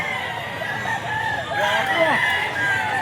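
A gamecock crows at an open-air pet market, with a clear crow in the second half over steady crowd noise and faint voices.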